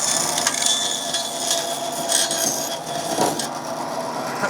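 A large-toothed saw blade rips through very stringy wood, giving a loud, continuous rough grinding and splintering roar with rasping surges and brief catches throughout.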